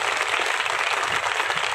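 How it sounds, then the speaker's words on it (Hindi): An audience claps with raised hands at a Sai birthday celebration in Faridabad, a dense, loud, continuous burst of applause from a crowd. "हाथ ऊंचे करके ताली बजाओ ना जोर से"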